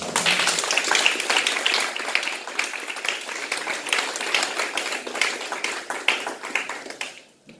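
A church congregation at a worship service breaks into sustained, loud applause, dense clapping filling the room throughout before cutting off abruptly at the end.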